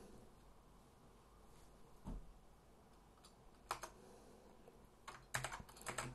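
Typing on a computer keyboard to enter Linux terminal commands on a Fedora 17 system: faint, sparse key clicks that quicken into a short burst of taps near the end, in a quiet room.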